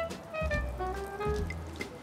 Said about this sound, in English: You'll see all the water dripping out here.